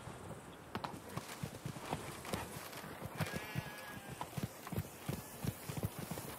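Roach the horse galloping in The Witcher 3: Wild Hunt, rapid rhythmic hoof clops in a steady beat, moderately close, over a faint ambient background with no talking.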